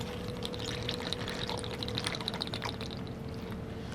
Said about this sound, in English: we are going to add our 2 ounces of pineapple juice